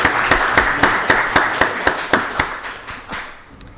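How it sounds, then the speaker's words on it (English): Audience at a county board of commissioners meeting clapping in slow, spaced unison, about a dozen loud claps at a steady beat, then fading. "Y'all give Stephen another round of applause"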